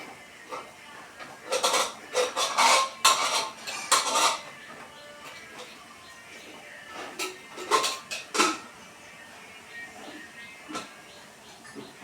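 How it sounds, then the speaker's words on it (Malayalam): A pressure cooker is closed and set down in a home kitchen. Bursts of metallic clanks and clinks come in two clusters, separated by quiet stretches with a soft background hiss. "അങ്ങനെ കുക്കർ അടച്ച് വെച്ച്"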